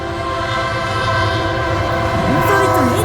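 CN freight train Q198, led by locomotive 3387, an AC44C6M rebuild, rolls southbound through Ladysmith, Wisconsin: a loud, steady locomotive drone with rail rumble, and horn tones rising near the end.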